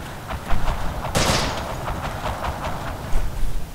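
Machine gun fire at a waterline in Forgotten Hope 2's Pegasus Bridge map, a string of fairly distant rapid bursts with one sharper crack partway through, moderately loud.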